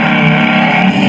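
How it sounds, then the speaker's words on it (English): Hyper GoGo Cruiser 12 kids' electric motorcycle giving off its simulated engine noise under throttle, a steady, loud synthetic motor drone with a dense buzzing tone that holds evenly throughout. "And when you do throttle, it will make these noises,"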